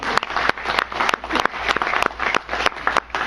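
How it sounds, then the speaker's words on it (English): An audience at a wrestling panel discussion applauds Dan Gable, with a steady wash of clapping and sharp individual claps standing out throughout, fairly close and loud. "How about a round of applause for Dan Gable?"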